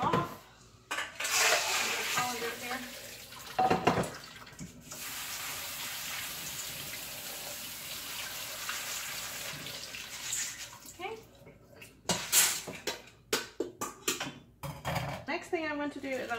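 Tap water runs steadily over dried pinto beans being rinsed in a pot in a home kitchen, with clinks of dishes and cookware near the start and end and brief bursts of talk in between.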